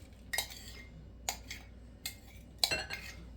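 Worm castings and potting soil mixed in a pie plate, a few sharp scraping, clinking strokes of a utensil against the dish separated by short quiet gaps.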